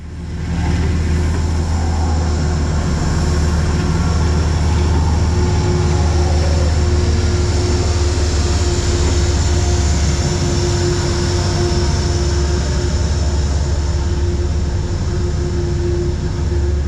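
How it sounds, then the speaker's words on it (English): Metro-North train 1897, hauled by MTA locomotive 225 in blue-stripe livery, rolls slowly westbound off the Danbury branch toward South Norwalk in the rain, a loud, sustained engine drone and rumble with a steady tone throughout. "Boring Blue Stripe MTA 225 eases train 1897 off the Danbury branch westbound to the South Norwalk station"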